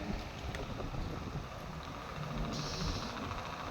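A motor trawler passes under a river bridge, its engine a steady low drone mixed with wind and open-air noise, fairly distant and continuous.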